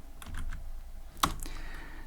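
Python code for a Pong game typed on a computer keyboard, a quick run of light key clicks at close range with one sharper, louder keystroke in the middle.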